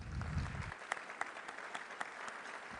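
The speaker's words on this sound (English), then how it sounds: "let's give them a round of applause" Rotary Club audience applauding new members, a dense patter of many hands clapping steadily at moderate distance, carrying through the whole stretch after a brief low murmur at the start.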